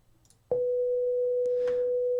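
A steady pure sine-wave tone from an FM8 synthesizer starts abruptly and holds at constant pitch and loudness, with a couple of faint clicks behind it.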